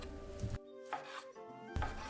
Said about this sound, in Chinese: 剁肉的原则：精切、粗剁，切成薄片